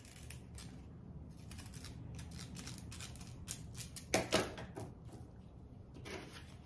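Scissors snip through banana leaf in a run of quiet, crisp cuts close by, with a brief louder rustle of the leaf partway through.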